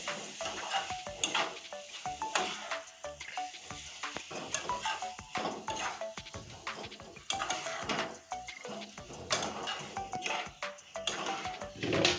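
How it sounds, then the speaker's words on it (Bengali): Pitha batter stirred briskly in a bowl, repeated close scraping and tapping of a utensil with small clinks, moderately faint and without talking. "এবার আমি এটা নেড়ে নিচ্ছি সুন্দর করে"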